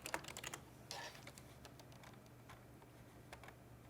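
Someone types on a computer keyboard in quick, close bursts of clicks and taps, thinning into scattered keystrokes against a faint steady hum.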